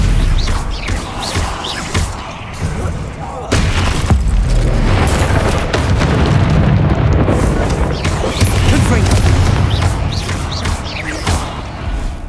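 Spells explode in quick succession during a Hogwarts Legacy battle, loud close booms and crashing bursts piling over a constant rumbling din with barely a pause.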